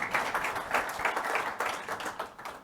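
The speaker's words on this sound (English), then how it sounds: "a round of applause for Chris" An audience claps for an economics editor at an automotive industry summit, a steady, dense patter of many hands kept up throughout at moderate loudness.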